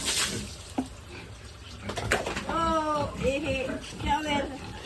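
Shower water sprays and splashes while pigs are washed, a soft running hiss under scattered voices and squeals from the animals.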